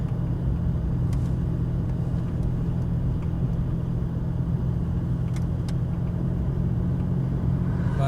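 A Pontiac Grand Prix GTP with freshly installed ceramic brakes cruises slowly through a small town, its engine and road noise a steady, close, low rumble with no let-up.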